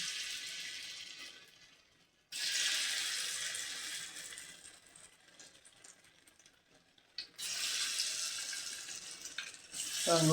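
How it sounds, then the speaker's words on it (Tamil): Egg gobi frying in hot oil, a loud, bright sizzle that comes in two long bursts separated by a quieter stretch, with a fresh surge at the end. "அது எண்ணெயில் போட்டு கொஞ்சம் கொஞ்சமாக பொரிச்சு எடுத்துக்கலாம்"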